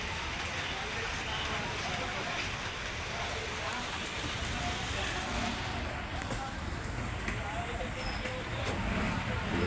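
Afternoon rain falls steadily, a dense continuous hiss of drops pattering on surfaces, fairly soft and unbroken for the whole stretch, with no voices.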